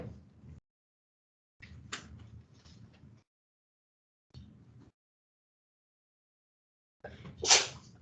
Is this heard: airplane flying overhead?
no